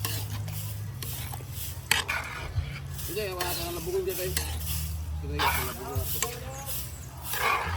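A spoon stirs spaghetti sauce with sliced hotdogs in a hot pan, giving a steady scraping and sizzling under a voice.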